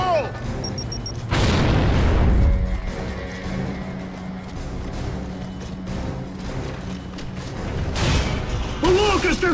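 In the video game Gears of War: Judgment, an explosive detonates with a deep loud boom that swells and rolls off over a couple of seconds, amid battle noise, shouted voices and a horse-like whinny.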